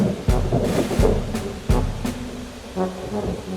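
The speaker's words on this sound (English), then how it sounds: "hard rain fell from the sky" Hard rain falls steadily with several sharp low rumbling thunder cracks breaking through the downpour, loud and close, with no voices.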